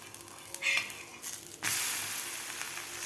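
Cucumber thalipeeth, a fasting flatbread, flipped in a hot pan gives a soft scrape and tap, then a louder burst of sizzling that keeps going steadily close by.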